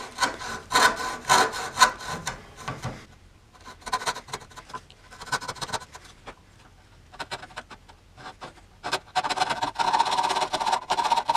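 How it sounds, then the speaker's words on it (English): Hand sawing through a wooden log to cut out a drawn design, with bursts of rough rhythmic strokes separated by short pauses, fairly close and loud. "Now I just get to come back and cut it out"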